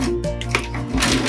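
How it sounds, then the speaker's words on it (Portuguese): Sewing machine running a straight stitch along the edge of a fabric oven mitt and pot-lid holder, with a short reverse backstitch at the end; a steady, close mechanical whir with rapid needle clatter, loud throughout. "passar uma costura aqui bem na borda e outro retrocesso aqui no final"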